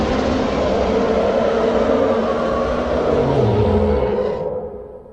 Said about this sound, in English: That is the sound of a Reaper Leviathan looking for its next meal.